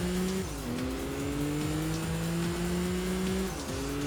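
Tires squealing as a car slides through a downhill corner in the Enthusia racing game, a long steady screech with shifting pitch over a loud, continuous engine drone, no talking.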